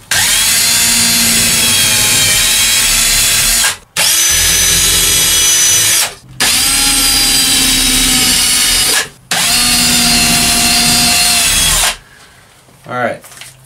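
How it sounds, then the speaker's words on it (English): A power tool punches four holes through a DIY travel trailer roof for a Fantastic Fan vent, four loud, near drill runs of about three seconds each with short pauses, ending in quieter handling rustle. "we're going to go ahead and punch in our four holes on the corner here"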